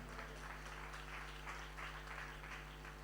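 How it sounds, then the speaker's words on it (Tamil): A congregation at a Sunday church service claps. The faint, steady wash of applause sits over a constant low electrical hum. "நல்ல கைத்தட்ட உற்சாகமா"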